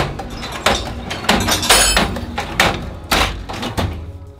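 Drawers of a Tengtools tool cart in the standard 670 mm size are pulled open one after another, making a quick run of sharp, close metallic slides and clunks at an irregular pace.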